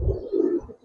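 Original Sapchila pigeons coo at a farm keeping Giribaz and coloring pigeons, a soft, low burbling call swelling and fading over a brief moment, close by with no talk.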